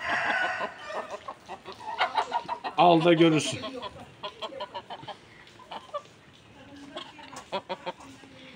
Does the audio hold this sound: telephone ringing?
no